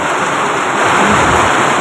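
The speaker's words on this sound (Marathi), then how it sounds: "एवढा जो जोरदार पाऊस चालू आहे मित्रांनो" Heavy rain pours down suddenly in a loud, steady wash of noise, dense and close throughout the short moment.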